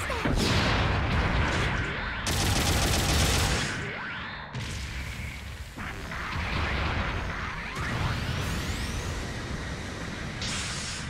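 Support artillery bombardment in a Gundam video game: heavy, loud blasts and crashing impacts with whooshing, hissing debris, rolling on in several waves without a break.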